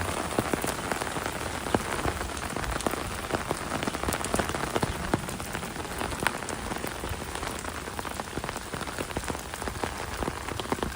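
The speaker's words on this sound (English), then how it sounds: "the rain is really coming down now" Dense, heavy rain pours steadily throughout on a Toronto street in May, a loud constant patter with no voices.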